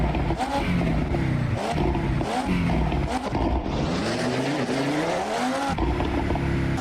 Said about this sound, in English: The inline 5 engine in the RS3 is essentially the V10 found in the Audi R8 sliced in half with a big turbo